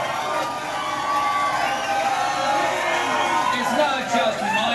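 A studio audience on the Colbert Report cheers, whoops and applauds in a steady, loud, continuous roar that holds for the whole stretch, with shouts and voices rising within the crowd noise.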